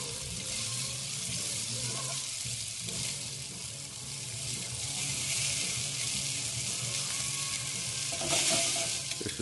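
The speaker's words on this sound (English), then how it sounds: "Everybody loves the sizzle, so I'm just going to let it sizzle" Loud, close sizzling of chicken tenders frying in a hot pan, a continuous hiss that swells slightly toward the end.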